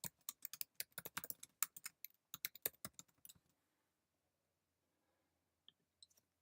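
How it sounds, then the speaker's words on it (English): Crisp, rapid clicks of typing on a computer keyboard for about three seconds, close and distinct, then near silence with a few isolated key taps at the end. "I'm just going to start typing after I highlighted the untitled document content."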